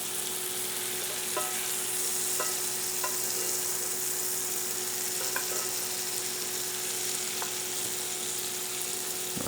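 Meat sears steadily in a Ninja Foodi NeverStick pan, a continuous close sizzle with a few faint clicks and taps scattered through it and no voices.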